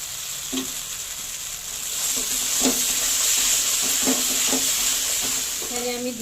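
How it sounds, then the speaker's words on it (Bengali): Cashews, raisins and poppy seed paste hit a vegetarian chhana kofta curry in a pan, setting off a steady sizzle that swells, with occasional spoon stirs and scrapes against the pot. "এবারে দিয়ে দেব কাজু, কিশমিশ আর পোস্ত বাটা"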